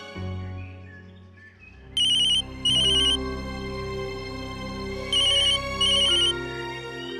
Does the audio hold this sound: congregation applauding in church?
no